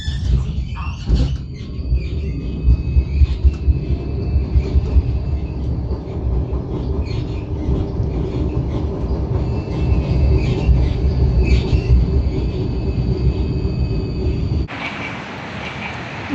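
A Vienna tram rolls toward Schönbrunn, with a steady rumble of wheels on rails and intermittent metallic squeals and creaks. The noise stays close and continuous, then shifts abruptly near the end as the interior sound changes.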